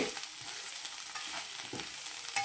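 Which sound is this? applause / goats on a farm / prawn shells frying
prawn shells frying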